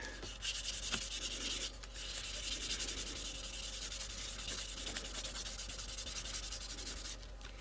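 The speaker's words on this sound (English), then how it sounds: "let's see if it sands nicely" Sandpaper rubbing over spray can primer on a scale model part, close, steady back-and-forth scratchy strokes that continue almost without pause, with a couple of brief breaks.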